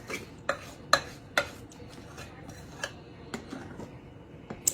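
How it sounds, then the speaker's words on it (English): Spoon scraping and clinking against a bowl while stirring ingredients into a butterscotch dessert mixture, a series of sharp taps at irregular intervals, fairly close and moderately quiet. "And let's just stir that in, okay?"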